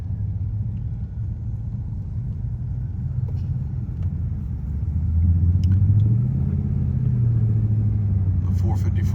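Square-body truck with a 454 engine in a mountain cruise on the GM Tailgate Tour: a deep, steady low engine rumble that swells midway as revs rise and fall, heard up close with people talking over it.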